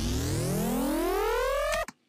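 A dubstep synth transition built in Logic Pro with the ES2 synth: a loud rising pitch sweep climbing steadily for nearly two seconds, then cutting off abruptly into silence.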